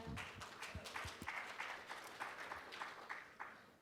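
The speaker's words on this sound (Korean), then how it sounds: "큰 박수 부탁드립니다" Faint, sparse clapping comes from a conference audience at a Jeju–Luxembourg startup cooperation forum welcoming an introduced speaker, with scattered individual claps rather than a full roar.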